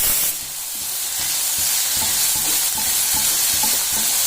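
Green chilli paste with garlic paste frying in hot oil for a black-eyed bean sabji, a loud continuous sizzle with repeated scraping stir strokes of a spoon against the pan, no talk.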